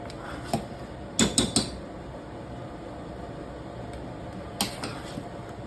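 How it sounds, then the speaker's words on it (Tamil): A ladle mashing cooked dal in a pot for idli sambar: a few scattered metallic clinks and scrapes, one cluster early and another near the end, over a quiet, steady kitchen hum. "லைட்டாக அப்படி கரண்டியை வச்சு அமுக்குனீங்க அப்படின்னா நல்லா மசிஞ்சு வந்துடும்"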